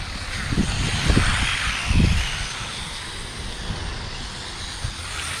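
A WLtoys 244016 micro 1/24 RC buggy whines as it drives and spins out on an uneven surface, a steady high motor buzz with brief louder surges of wheel scrabble.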